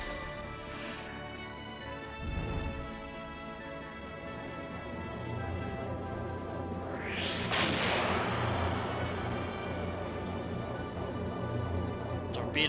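Torpedo launch in the Skies of Arcadia video game, a rising whooshing rush that swells midway over steady game music, followed by a lingering rumble.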